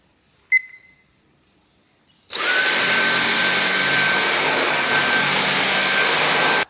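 A Dyson V8 Absolute cordless vacuum starts up on its high setting after a short click and then holds a loud, steady, high-pitched whine with a rushing airflow for several seconds before cutting off.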